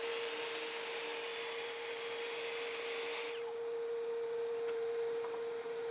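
A power saw cuts a wooden board for framing a stair half wall, giving a steady, high whine that runs for several seconds and then drops off partway through.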